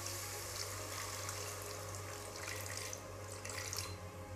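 Water from a tap runs steadily into a pan holding a bowl of sugar, the start of a sugar syrup for prasad boondi; a continuous close splashing pour with no talk.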